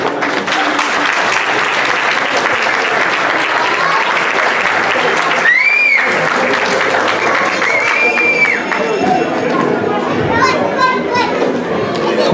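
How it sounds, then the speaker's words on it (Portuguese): A crowd at a Christmas party claps loudly and steadily in applause for the band's musicians, with children's voices and chatter mixed into the dense, continuous clapping throughout. "uma grande salva de palmas para vocês e para os nossos músicos"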